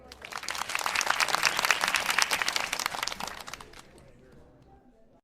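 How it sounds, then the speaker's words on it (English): Applause from an auction crowd in a GTA roleplay charity bid show, a dense burst of clapping that swells quickly, holds steady, then thins and fades out over the last second or so. "A loud round of applause."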